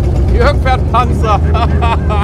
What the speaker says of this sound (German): Leute, ich fahre einfach ein Panzer.